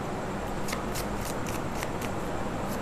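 Tarot cards shuffled close by, a run of soft rhythmic riffling snaps over a steady hiss, with no talk.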